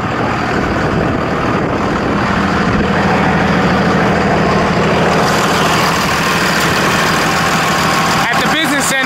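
A 2001 Dodge Ram 3500 dually with a 5.9-liter Cummins 24-valve turbo diesel inline six idles steadily and loudly up close, a continuous diesel clatter and rumble with no talk over it.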